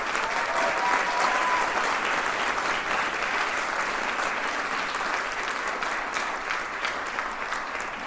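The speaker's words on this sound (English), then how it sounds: "If we could give her a round of applause." Audience applause fills a high school hall for the director of a concert chorale at a Hall of Fame induction, steady dense clapping that stays loud throughout and eases only slightly toward the end.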